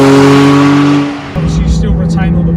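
Porsche 992 GT3 engine revving through a Milltek exhaust in track mode, a loud steady drone that drops briefly then surges up to a higher pitch, close up, with no voices.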